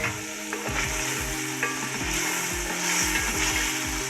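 Half-cooked chicken fries in a pan with tomato paste, a loud steady sizzle broken by a regular run of scraping stirs close up, with no voices.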